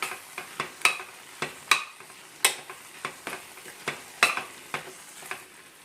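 A spoon stirs potato, onion and tomato curry with garam masala, coriander powder and chilli powder in a pan, giving a run of sharp scraping clacks over a soft sizzle, close and moderately loud, with no talking.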